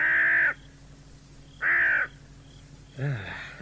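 A crow caws three times at a slow, even pace, each harsh call loud and close, with quiet pauses between them.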